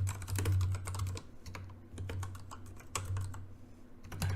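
Rapid keyboard typing in uneven bursts with short pauses, close and clear over a steady low hum.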